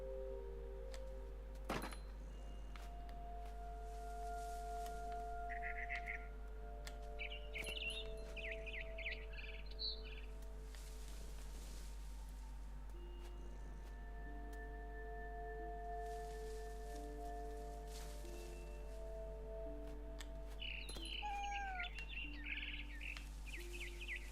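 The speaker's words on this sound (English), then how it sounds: "I tried to be quiet, but the bird was really scared." A frightened bird in the game What Remains of Edith Finch chirps and tweets in short scattered calls over a steady low hum and quiet ambience, with no talking.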